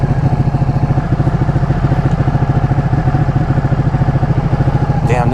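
A Ducati Panigale 1199 motorcycle being ridden, its engine throbbing in a steady, fast, loud pulse close to the microphone throughout, with a brief voice near the end.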